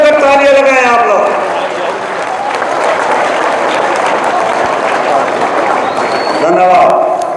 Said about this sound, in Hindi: जरा जोर से खड़े होकर तालियां लगाएं आप लोग।